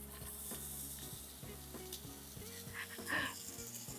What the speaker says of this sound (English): I'm gonna brown the meat and soften the onions at the same time